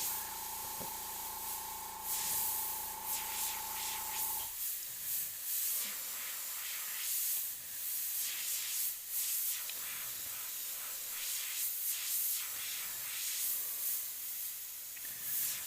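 An airbrush spray gun, of the Iwata or DeVilbiss kind, sprays paint in a steady close hiss that runs almost the whole time, with short bursts and pauses as the trigger is worked.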